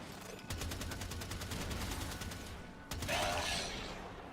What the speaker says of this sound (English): now it's a fully automatic machine gun in its single fire form, which is its highest crit form, with 0 recoil